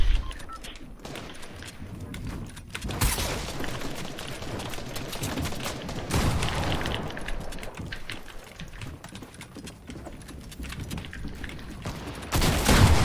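Fortnite squad-match gunfire, repeated bursts of rapid shots mixed with clicking game sounds across the clip, fairly loud and busy, with players talking now and then.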